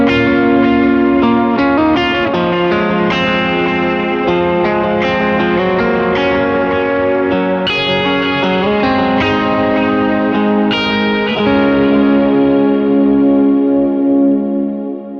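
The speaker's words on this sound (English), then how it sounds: "I have it dialed as a bit of a lower gain drive" Electric guitar through a Superbolt pedal set as a lower gain drive, playing continuous chords with a warm, slightly overdriven tone and some chorus and echo shimmer, loud and close with no talking.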